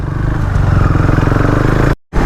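A motorcycle with a freshly rebuilt engine rides along the road, its steady mid-pitched engine note and rhythmic pulsing close and loud, clattering slightly, before cutting out abruptly into a brief silence and then resuming.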